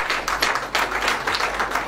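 A hall audience at a Hindi book launch for a collection of songs claps together, producing a dense, continuous patter of applause that stays steady and fairly loud for a couple of seconds.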